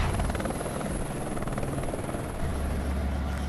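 Helicopter air taxi flying over São Paulo, a steady loud rotor drone with deep low thumping that holds through the whole stretch, no voices over it.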